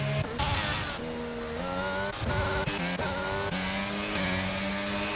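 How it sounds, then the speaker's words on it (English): An F2 race car engine howls continuously at close range in a racing game, its pitch rising and falling as the throttle is repeatedly opened and lifted, with no voices. "He's on and off throttle a lot there."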